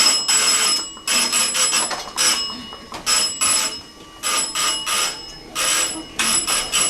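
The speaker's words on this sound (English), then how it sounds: "Like a fire alarm." An electric alarm bell rings loudly in repeated bursts of about a second, with short gaps between them, heard indoors in an office.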